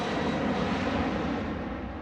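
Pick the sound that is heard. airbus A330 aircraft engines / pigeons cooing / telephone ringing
airbus A330 aircraft engines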